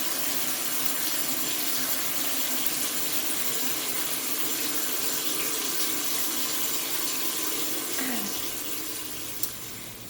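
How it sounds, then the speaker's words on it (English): Tap water gushing into a sink as hands are washed, a loud, steady rush close by that continues unbroken and eases slightly near the end. "So now I'm going to demonstrate how to properly wash your hands."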